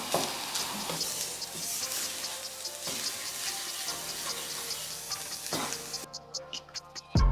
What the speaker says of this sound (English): Give it one last mix, and your fried rice is ready to go.